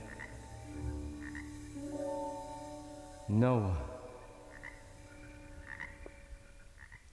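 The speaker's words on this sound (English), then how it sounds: "Definitely more frogs than we've ever had before." Frogs croaking outdoors around the summer solstice: a loud, close croak rising in a stepped sweep stands out over several fainter, steadier croaks and calls in the background.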